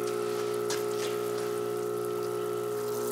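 Water bubbles continuously in a compost tea bucket, making a steady, close, even aerated hum with faint splashy texture throughout.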